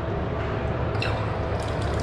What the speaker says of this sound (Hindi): देख लो पानी आ गया सेंसर के